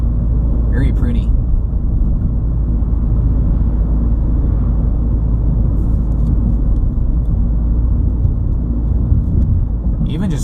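A car drives through Cuyahoga Valley National Park, its cabin filled with a loud, steady low road rumble and engine drone, and a voice speaks briefly over it.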